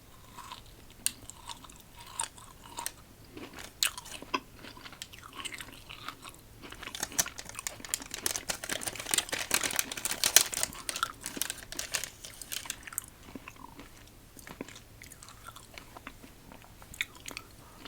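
Milk-chocolate-covered coconut nest candy chewed close to the mic for an ASMR candy taste test, with crisp biting crunches and wet chewing building to a dense burst midway, then thinning out.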